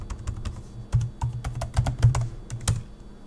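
Fingers typing a password on a computer keyboard, a quick irregular run of crisp key clacks with a few heavier thumps, close and steady for a few seconds, no voices.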